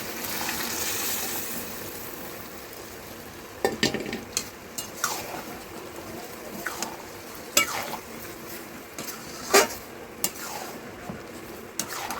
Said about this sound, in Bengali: এই দেখুন সিদ্ধ হয়ে গেছে কলাই, ঢেলে দেবো এটা।